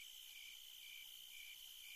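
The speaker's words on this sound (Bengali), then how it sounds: "নিশিকালো অন্ধকারের মাঝে শুধু ঝিঝি পোকার ডাক কানে ভেসে আসছে।" Crickets trill steadily in a quiet night, a thin high-pitched chirring that never stops, faint and far off.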